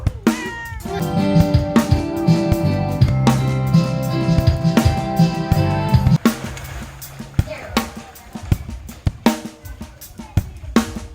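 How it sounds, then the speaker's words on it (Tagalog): Several cats meow repeatedly and loudly up close, with overlapping sustained and short cries, at a nature park spring in Dasol, Pangasinan; a person talks intermittently among them. "Ay, marami talagang pusa dito."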